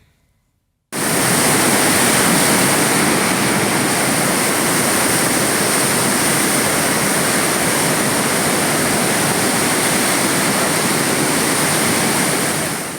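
The Punnappuzha river in Nilambur, Malappuram, flows after rain with a steady, loud, broadband rushing roar that starts after about a second of silence and continues unbroken, with no voices.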